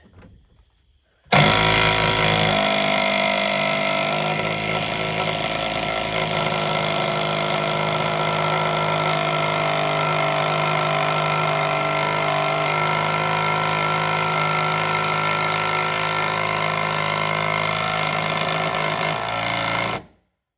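A cordless DeWalt drill whirs loudly and steadily for about eighteen seconds, a continuous motorized drone with a slight rising strain as it drives in a screw while installing fascia boards.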